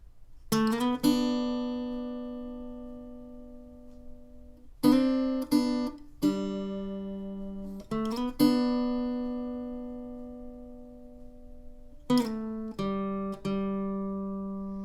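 Electric guitar plays the intro lead of a song, a run of plucked notes and ringing chords that start in bursts and sustain, played alone and fairly close without any talk.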